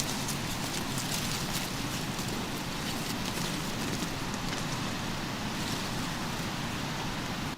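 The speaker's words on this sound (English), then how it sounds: "I don't know if those are leaves falling or if it's starting to rain." Light rain or falling leaves patter on the outside of a tent in a forest, a soft continuous hiss of scattered drops, steady and close, with no voices.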